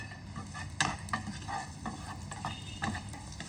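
Garlic with cumin and mustard seed tempering sizzles in hot mustard oil: a steady, close crackle with sharper pops and spatters scattered through, with no talking.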